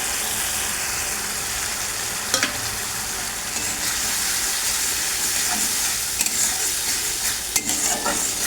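Ground cumin, coriander, turmeric and Kashmiri chilli powder fry in a pan with a loud, dense sizzle, punctuated by several sharp ladle clacks and scrapes against the metal.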